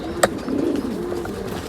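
A pigeon gives a soft, low coo at a pigeon sale, close by, with a sharp brief click just before it and a faint steady background hum.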